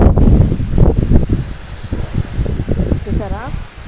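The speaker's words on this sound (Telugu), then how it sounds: "ఈదురుగాలు చూడండి ఎలా వస్తున్నాయో." Strong gusty wind ahead of rain in Hyderabad roars into the microphone and through nearby trees, with loud buffeting rumble throughout, while a person talks over it.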